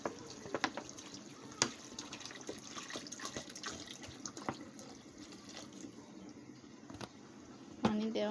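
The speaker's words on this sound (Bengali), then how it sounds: "এখন আমি ঝোলের জন্য পানি দিয়ে দেব।" Water is poured into a pot of radish and hilsa fish curry, a faint, steady running wash with a few sharp clinks and drips, fairly distant in a quiet kitchen.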